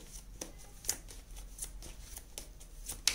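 Tarot cards being shuffled and drawn by hand, a quiet, close series of soft riffling snaps and slaps that repeat in an uneven rhythm, with no talk.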